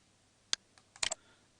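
Sharp computer keyboard keystrokes as Ctrl-C is pressed to copy, a single click followed by a tight cluster of three quick taps in a quiet room, close and crisp.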